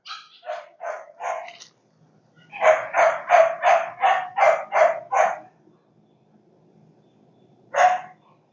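A shelter dog at a rescue in Magnolia, Texas barks in bursts: a few lighter yaps, then a fast run of seven loud, close barks, a pause, and one final bark, with no talk over it.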